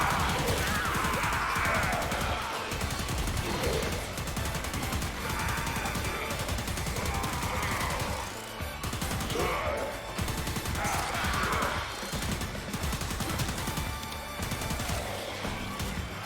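Laetum Incarnon, an evolved secondary gun, fires in the game Warframe on Steel Path, keeping up dense continuous bursts for most of the stretch with crashing impacts, with only brief dips in the barrage.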